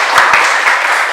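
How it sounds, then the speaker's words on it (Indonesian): A short, dense burst of audience applause at a youth event in Semarang, many hands clapping together loudly and close for about a second. "Sebelumnya tepuk tangan nih buat Mas Ananta."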